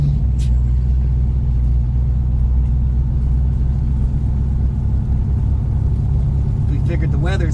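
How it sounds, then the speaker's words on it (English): A 1964 Dodge Polara 500 drives along, its engine giving a steady, loud low rumble from inside the car, with brief rustling toward the end. "Gayle's first time driving the Dodge"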